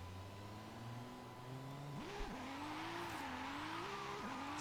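Drifting car in Forza Horizon 5, engine note rising and falling as revs swing, with tire squeal underneath, steady and close for the whole stretch.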